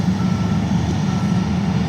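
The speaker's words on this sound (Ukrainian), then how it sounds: "Їде трактор до нього, будуть висипати зараз." Tractor engine driving over to a full combine harvester in a field, a steady loud low rumble with no talk.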